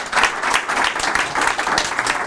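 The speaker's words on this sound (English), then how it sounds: "give him a round of applause" An audience at a business and project-management event breaks into steady, dense applause welcoming a panelist to the stage, a loud continuous wash of many hands clapping together without any voices on top.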